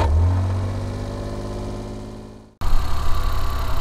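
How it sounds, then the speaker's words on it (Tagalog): A DA63T K6A engine with a suspected faulty ignition coil is idling, cuts out briefly and starts again. It then runs at a steady, slightly rough idle, close and fairly loud, with no talk. "so let's turn on the engine."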